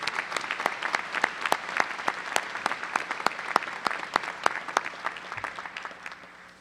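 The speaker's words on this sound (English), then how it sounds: "Please join me in a round of applause thanking Dr. Ottinger, Dr. Hornberger, and Professor Martin and wishing them well in their retirement" Audience at a Washburn University spring commencement claps steadily for retiring faculty, a dense wash of many hands with sharp individual claps standing out, holding strong for several seconds before tapering off.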